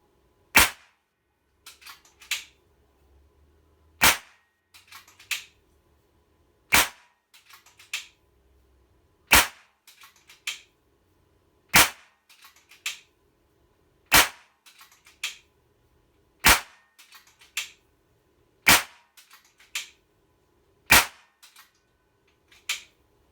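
A Kral Puncher Jumbo air rifle fires shots across a chronograph, about eleven sharp, loud cracks spaced roughly two seconds apart, with softer mechanical clicks of cocking and loading between them.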